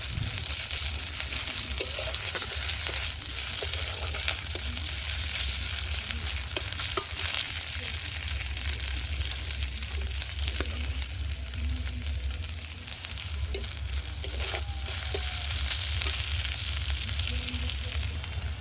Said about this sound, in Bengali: এটাকেও ভেজে নেব পেঁয়াজের সঙ্গে।